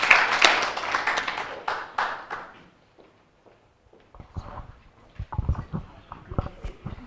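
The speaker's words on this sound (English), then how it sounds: "Can we give Prof a round of applause" At a COP conference an audience applauds the professor with a brief burst of clapping that fades out within a few seconds, followed by silence and then scattered low thumps and knocks like footsteps or handling.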